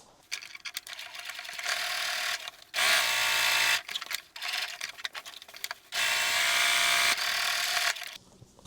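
A sewing machine stitches a fabric liner for an Easter basket in two steady, loud runs of whirring, each about a second long, with quieter mechanical handling and pauses between them.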